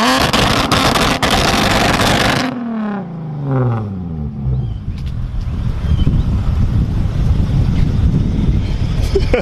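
A Mazda RX-7 nicknamed Panda blasts on its two-step launch limiter with rapid popping crackles, then the revs fall away in a descending whine before a rough, gusty idle and rumble continue, loud and close.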